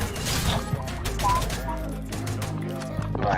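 In a Free Fire 4v4 custom match, an in-game explosion booms amid rattling gunfire bursts and clanks, close and loud, while players talk over the action.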